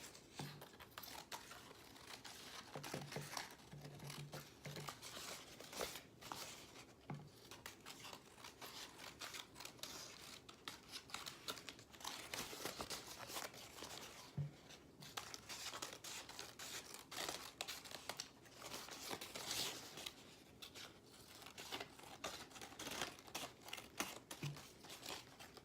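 Scissors cut the white border off paper for patriotic DIY mason jar decor, a long stretch of soft, steady snipping and rustling up close with no talk.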